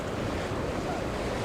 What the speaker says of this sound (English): Listen to how it slaps the water.